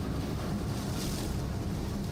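The DNR's 80-foot, 120-ton, 700-horsepower icebreaker Sandusky pushes through several inches of ice with a steady, dense, fairly quiet wash of rushing noise and rumble.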